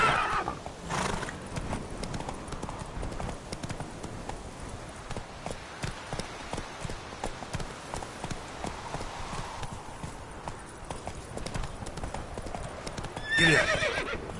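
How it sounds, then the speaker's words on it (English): Horse hooves clip-clop at a gallop through the whole stretch in The Witcher 3, with a close neigh near the start and another whinny near the end. "Whoa there, Roach."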